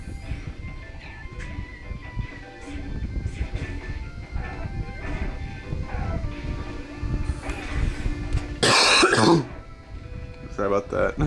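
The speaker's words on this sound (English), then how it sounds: "When you're holding a camera and you're coughing, that's pretty bad." Several coughs and throat clearing break out among ongoing background talk, the loudest harsh burst coming near the end, close to a handheld camera.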